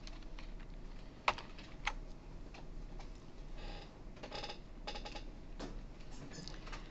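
Computer keyboard typing during a recorded programming lecture on arrays, steady quiet key clicks with a couple of sharper louder strikes, irregular rhythm throughout, fairly faint and close.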